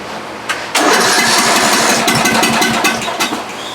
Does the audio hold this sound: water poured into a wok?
no